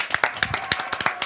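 A studio audience at a French live show claps in a quick burst of sharp, uneven hand claps that fills the short moment, with no talk over it.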